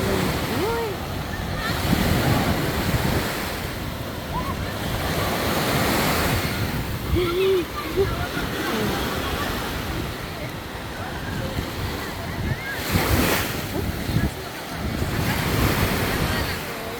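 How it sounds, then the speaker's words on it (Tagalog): Strong ocean waves roll in at the beach in Noja, Cantabria, Spain, a continuous roaring surf with surging swells, mixed with gusty wind buffeting the microphone and faint voices of people nearby. "Ang lakas ng alon dito banda."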